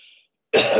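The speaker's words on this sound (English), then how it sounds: "Excuse my cough." A single harsh, throaty cough bursts out loudly after a brief silence, close to the microphone.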